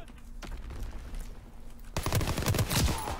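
Gunfire from a World War II era online shooter, Call of Duty WW2, including a grease gun: faint scattered shots at first, then dense rapid bursts of automatic fire that grow louder and fill the second half.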